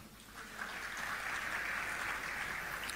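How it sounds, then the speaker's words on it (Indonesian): A church congregation gives a small round of applause during a sermon, a soft, steady patter of scattered claps rising after a quiet start and holding evenly. "terima kasih buat tepuk tangan yang kecil itu"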